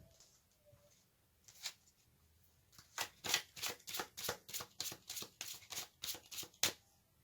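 Tarot cards being shuffled by hand, a quiet stretch giving way to a steady run of a dozen crisp, close riffling bursts in even rhythm, with no talking.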